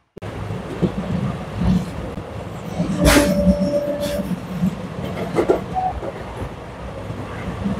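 A passenger train runs along the Kerala backwaters near Alappuzha, a continuous close rumble with rhythmic wheel clatter and a brief squeal, heard from inside the carriage.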